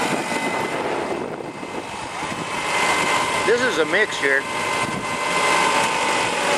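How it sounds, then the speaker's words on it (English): A tractor engine runs close by on a garden plot being worked with beans and mushroom compost, a steady mechanical drone under wind, while a person talks over it. "maybe you can hear the tractor too much"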